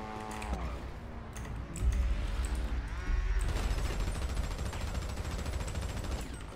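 Rapid bursts of gunfire in GTA roleplay crackle loudly and continuously under a steady background, with dense clicking texture throughout.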